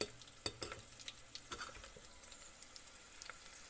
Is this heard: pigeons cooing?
no